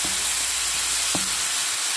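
Indian mackerel simmering in a pan with cherry tomatoes and lemon, a steady soft sizzle with one brief utensil knock midway, close and even, no voices.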